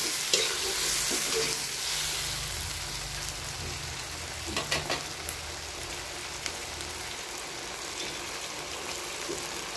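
Fish frying in a hot pan with oil, steady sizzling and crackling throughout, with repeated stirring scrapes and a few sharper utensil clinks near the middle; no talking.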